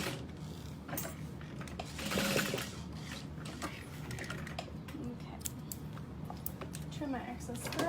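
A sewing machine stitches tote bag straps in quick, irregular bursts of mechanical whirring and clicking, moderately close but faint, with a person talking intermittently over it.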